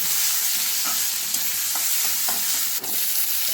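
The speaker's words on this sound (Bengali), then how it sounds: "তেল গরম হয়ে গেছে চলে গেছে কালো জিরে তেলে চলে গেল পেঁয়াজ ফোড়ন" Steady, loud sizzling of nigella seeds and onion frying in hot oil for a fish curry, a continuous crackling hiss with a few faint clicks of stirring.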